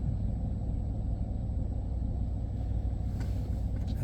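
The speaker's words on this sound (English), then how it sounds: "I think he's trying to back up to his trailer and get his trailer hooked up" A vehicle backs up on wet ground to hook up a trailer, giving a steady low engine rumble heard from a short distance that holds constant throughout, with no voices.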